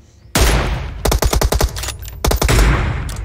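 Gunfire in PUBG Mobile, loud close bursts of rapid automatic shots with a heavy opening blast, then two fast strings of shots separated by short gaps.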